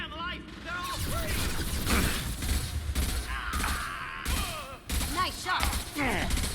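Bursts of sci-fi gunfire in Mass Effect 2 crackle and pop in rapid volleys, mixed with thuds and impacts while voices shout over the combat.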